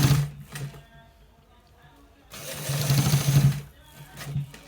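A sewing machine stitching the neckline of a v-neck garment, two bursts of rapid mechanical running separated by a quieter pause, close and moderately loud.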